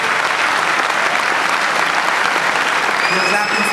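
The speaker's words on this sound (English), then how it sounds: "You're clapping for yourself." Loud, sustained applause from a corporate event audience, a dense unbroken wash of many hands clapping close by.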